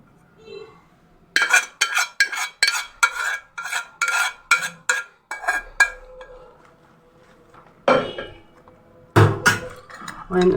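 A spoon stirring a no-bake dessert mixture in a pot, a quick run of sharp metallic clinks and scrapes, then a quiet pause followed by a few more spaced knocks against the pot.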